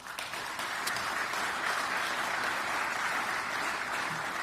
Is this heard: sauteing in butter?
no